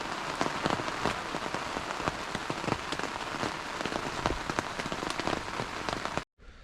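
Steady early-morning rain patters on surfaces around a wild fishing pond in the Sumy region of Ukraine, a dense even hiss of drops that cuts off abruptly at the end.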